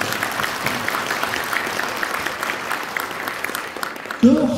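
An audience at a stock listing briefing claps in a dense, sustained round of applause filling the room, steady throughout with a brief louder bump near the end.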